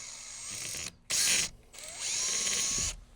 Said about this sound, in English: I grabbed a 3/16 drill bit. I'm just going to drill out